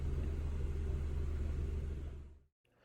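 A GMC Terrain engine runs at a steady idle, a close, even low rumble that fades out and cuts off near the end, leaving near silence.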